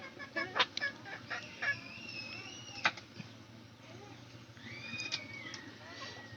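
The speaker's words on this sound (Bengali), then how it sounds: "ওই যে মুরগির বাচ্চা ওর মধ্যে খাইতেছে" Hens and young chicks cluck and peep while feeding, several short bright calls close by, scattered over low background noise, with occasional faint voices.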